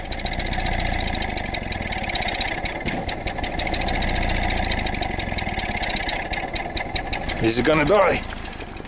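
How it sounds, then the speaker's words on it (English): A hydrogen-fueled engine idling cold with water in the exhaust, a steady rough mechanical chatter throughout, rising briefly near the end as it is given a bit more throttle, with voices talking over it. "It is normal for engines to have a lot of water in the exhaust until they get warm"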